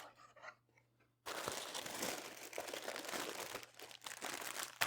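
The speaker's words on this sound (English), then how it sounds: "I'll try to take out some of these awful crinkle noises" Packaging for a custom Minnie Mouse ears order crinkles and crunches as it is opened, with a dense stretch of close, loud rustling and crackling after a brief quiet start, no talk.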